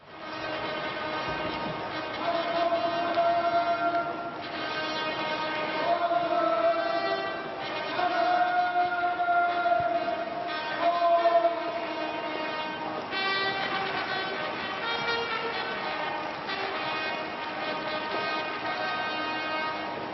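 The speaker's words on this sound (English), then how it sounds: "The fanfare is sounded, telling the world that the sovereign is in Parliament." Ceremonial trumpet fanfare at the State Opening of Parliament in 2015, announcing the sovereign's arrival: loud, sustained brassy chords ringing out in a steady series of phrases across the whole stretch, with no talking.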